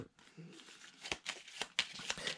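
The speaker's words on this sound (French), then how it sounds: "Je vais remélanger toutes les cartes" Playing cards are riffled and reshuffled by hand in a quiet room, a series of soft, crisp flurries and snaps arriving in bursts about every half second.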